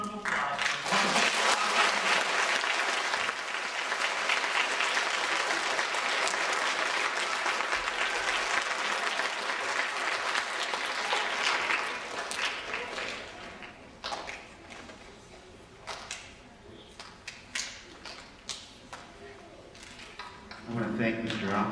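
Applause from a school audience at a blues education assembly, dense and sustained for about twelve seconds before thinning into scattered claps and fading, with talk over the end.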